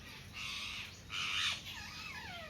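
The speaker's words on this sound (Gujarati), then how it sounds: "અને ઉપર નકરા પોપટ બોલે છે." Parrots calling overhead above a rangoli-decorated spot, a few harsh squawks and calls rising over a steady background hiss, fairly faint and distant, with no talk.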